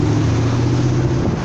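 Steady, loud road traffic roars continuously by a ferry terminal for Macau in Sheung Wan, Hong Kong, a dense low rumble with no breaks.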